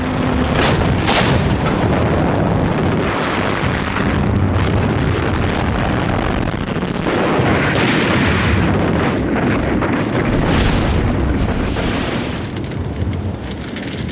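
Rumbling booms and crackling bursts of artillery fire and explosions fill a North African tank battle, a dense continuous roar with repeated heavier blasts, loud and distant-sounding, with wind-like noise underneath.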